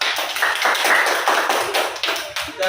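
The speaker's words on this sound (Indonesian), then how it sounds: "beri tepuk tangan buat Niara" A classroom of students applauds for a classmate, steady dense clapping throughout, loud and close, with a few thumps.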